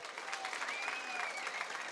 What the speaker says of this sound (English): put your hands together for a round of applause for our incredible party chair, Morgan Carroll